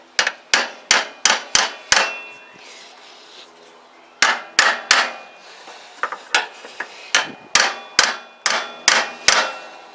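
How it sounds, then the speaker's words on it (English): A big hammer strikes metal on a Keeway RKV125 motorcycle in repeated sharp clangs, fast bursts of blows in quick succession separated by brief pauses, loud and close. "to try and squeeze that. With me big hammer"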